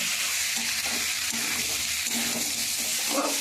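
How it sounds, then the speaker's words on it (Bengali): Vegetables fried earlier being sautéed with spices in a pan for a Bengali pabda fish curry, a steady close sizzle with stirring scrapes running throughout, no talking. "এবার আমি যে ভেজে রেখেছিলাম সবজিগুলো মশলার সঙ্গে দিয়ে দেব এটাও ভালো করে এবার মশলার সঙ্গে সবজিগুলো কষিয়ে নেব"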